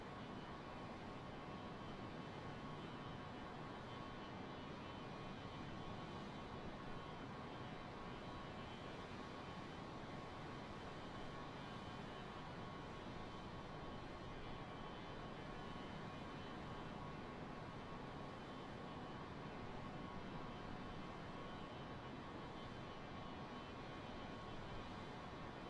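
Fokker 100 jet engines in Microsoft Flight Simulator 2024 give a constant, even roar, a dense broadband cabin-like drone that holds steady throughout without voices.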